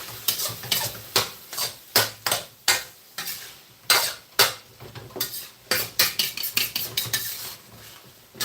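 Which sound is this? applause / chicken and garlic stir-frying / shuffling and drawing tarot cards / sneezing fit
chicken and garlic stir-frying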